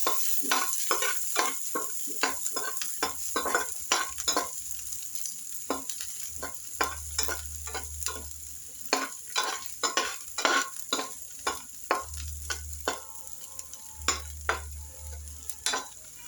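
Onions fry over low gas in a pan for vegetable daliya, with a steady soft sizzle under frequent rhythmic scrapes and clanks of a spoon stirring, close and without talk.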